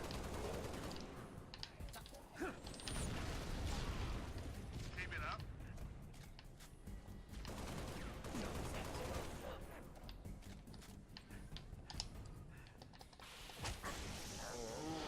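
Assault rifle gunfire in Halo Reach, bursts of rapid automatic shots mixed with explosions and clanking game effects, heard under someone talking throughout.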